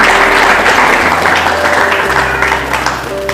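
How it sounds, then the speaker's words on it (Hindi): Church congregation clapping together to glorify the Lord, a steady dense patter of applause filling the room for a few seconds, fairly loud and close. "ताली बजाकर प्रभु को महिमा दो।"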